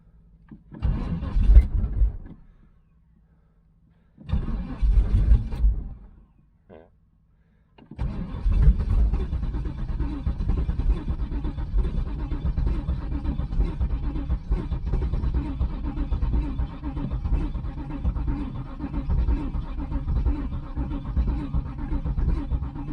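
A 1996 Pontiac Trans Am with a no-spark fault makes two short failed start attempts, then catches and keeps running with a rough, steady engine note for roughly fifteen seconds, loud and close, with no talk.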